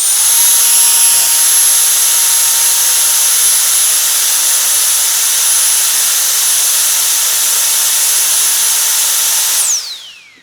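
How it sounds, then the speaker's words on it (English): An Atoms handheld blower used for drying a car runs at full power, a loud, sustained high-pitched whine and rushing air heard close up. The blower holds steady for about ten seconds, then spins down with a falling whine. "Moving on to the Atoms blower."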